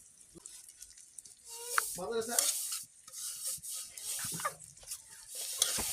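A spoon stirs spices into pickle in a pan, with repeated scraping and soft sizzling from the hot mixture, steady and close.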